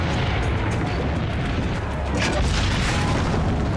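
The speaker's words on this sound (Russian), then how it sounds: "Вон еще пушки, вон бомбят." Cannon bombardment during a battle in the video game Assassin's Creed Brotherhood, a dense, continuous roar of booms and blasts that fills the whole stretch, loud and unbroken.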